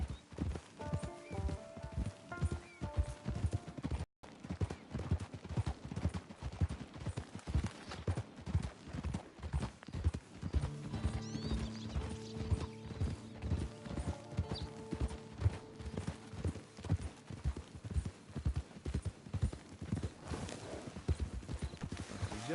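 Steady clip-clop of horse hooves at a walking rhythm in the video game Red Dead Redemption 2 Online, continuing throughout with faint creaks and a brief whinny-like tone in the background.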